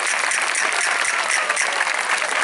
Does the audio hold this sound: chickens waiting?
no